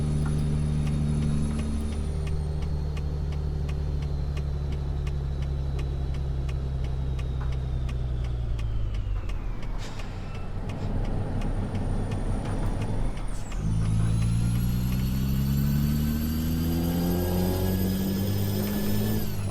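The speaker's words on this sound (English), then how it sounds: "Those engine sounds are gorgeous." A big truck engine in American Truck Simulator drones loudly and steadily, revving down and then climbing back up through the gears, with a hiss partway through.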